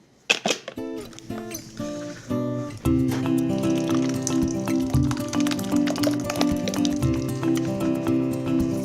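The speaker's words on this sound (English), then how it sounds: "we pass it through the sieve nice and easy until you get everything down" Tomato coulis pressed through a sieve with a spoon, close wet squishing and scraping strokes in an uneven rhythm, over a steady kitchen background with a few sharp clinks at the start.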